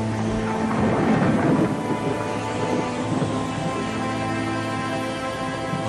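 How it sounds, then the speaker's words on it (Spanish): Steady rain with a broad low thunder rumble building as a storm starts over a city street, loud and continuous throughout with no voices. "Está comenzando a llover."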